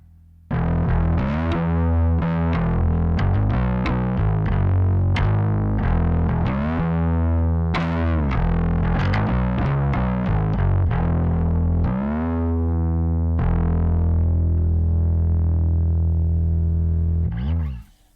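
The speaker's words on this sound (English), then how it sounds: "starting with the Boss, this one is being used for a medium gain type sound" Electric guitar run through a Boss overdrive pedal set for medium gain, playing a steady stream of crunchy picked notes and chords at close range, then a final chord that sustains and cuts off.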